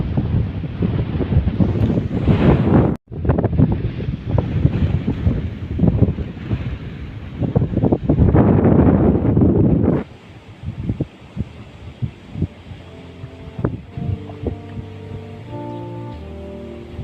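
Strong gusty wind during a storm that damaged mango trees roars and buffets the microphone loudly for about ten seconds, then eases to softer background noise with scattered knocks and rustles.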